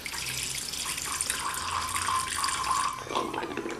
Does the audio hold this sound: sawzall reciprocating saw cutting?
no